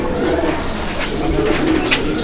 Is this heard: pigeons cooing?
yes